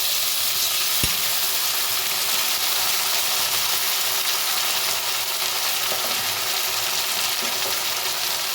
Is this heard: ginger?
yes